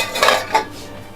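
Metal utensils and dishes clink and clatter close by in two short bursts, then fade into a quiet room with no talking.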